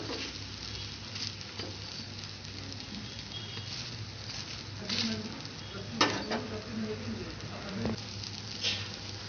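Omelette frying in a pan after being flipped, a soft steady sizzle and patter with a few scraping clinks of the utensil, fairly quiet, with occasional talk.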